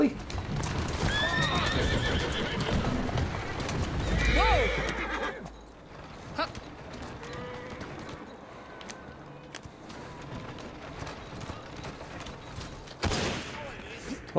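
A horse in the video game Assassin's Creed Syndicate clip-clops along and lets out a loud whinny early on, hoofbeats continuing more quietly afterward with scattered gunfire-like cracks and a sharp burst near the end.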